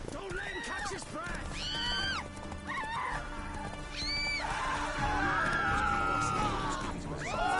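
Roach, Geralt's horse in The Witcher 3, gallops and whinnies in shrill neighs over rhythmic hoofbeats, with game music and voices talking throughout.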